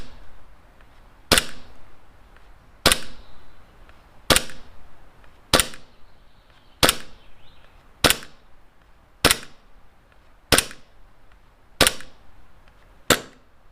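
Armorer Works VX0111 gas blowback pistol fires eleven sharp, loud shots at a steady pace of roughly one every 1.3 seconds, each crack followed by a brief snappy slide clack, with quiet gaps between.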